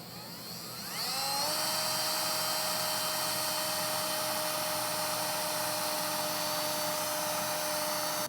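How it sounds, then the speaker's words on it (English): A steady, high-pitched whine of a power drill boring pilot holes in metal while installing a Roadmaster Direct-Connect tow base plate, running continuously at close range, with no talking. "now we're going to drill a couple pilot holes before we step up to our 17/32 bit"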